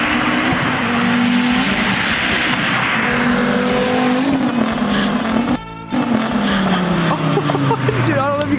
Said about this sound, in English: Gonna do a little flyby.